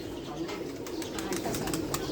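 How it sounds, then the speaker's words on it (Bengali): Pigeons coo softly in a loft, a low steady murmur of calls under a constant background noise, with faint rustling throughout. "এই দুইটা কবুতর ভাইয়া নিয়ে গেছে"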